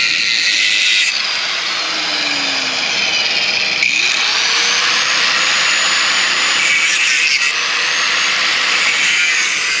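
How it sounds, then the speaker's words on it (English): Loud, continuous high-pitched grinding as a cutting tool slices the rear brake hanger off a GSXR 1000 motorcycle, with slight pitch shifts and brief dips as the blade bites in. "what he's doing, he's cutting the rear brake hanger"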